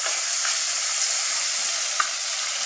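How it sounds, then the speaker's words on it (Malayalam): Tomato with ginger, garlic and shallot paste sautéing in a pan for rasam, a loud, even, close hiss of frying that runs throughout, broken only by a couple of faint clicks. "പിന്നെ ഇത് ഇഞ്ചി, വെളുത്തുള്ളി, കൊച്ചുള്ളി പേസ്റ്റ് അത് നമ്മൾ നല്ല വാട്ടണം."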